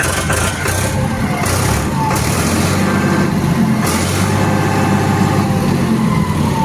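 A Farmtrac 47 PROMAX 2WD tractor engine running loud and close, a steady low diesel rumble that rises and eases as the throttle changes, with no talk over it.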